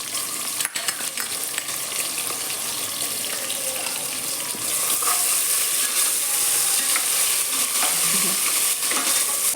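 Onions with green chilies fry in a pan while being stirred, giving a steady close sizzle with scraping stir sounds throughout and no voices.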